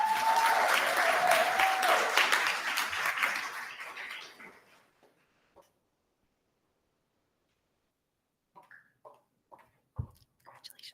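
Audience applauding at a university research awards ceremony, a full burst of clapping that fades out over a few seconds, followed by quiet and a few faint scattered sounds.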